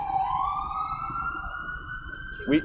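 A siren wails steadily in the distance, its long rising tone sustained throughout, with a faint background murmur and a brief thump near the end.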